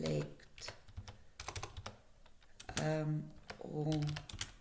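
Clicks and taps from a computer keyboard pressed for spreadsheet shortcuts to select a column, scattered in short bursts beneath a person talking throughout.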